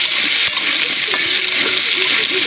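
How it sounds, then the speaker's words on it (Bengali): Potatoes for aloo posto fry in hot oil, a loud, steady, close sizzle that runs throughout, broken by a couple of faint knocks and stirring sounds, with no one speaking. "আগে আলুগুলো লাল লাল করে ভেজে নেব"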